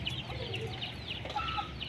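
Chickens kept by an elderly rural couple cluck close by in a quick, continuous run of short calls over a low outdoor background, with no talking.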